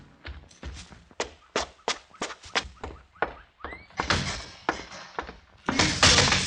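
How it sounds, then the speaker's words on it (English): Door sound effects from a 1953 radio drama: a run of hard, close thumps and bangs in quick irregular succession, building to heavier, louder slams at the end. "Slam the door, Mr. Cooper."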